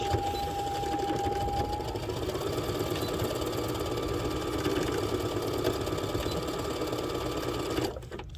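A sewing machine runs a half-inch seam along fraying elastic for a spa headband, its motor whirring steadily and close for about eight seconds before cutting off near the end.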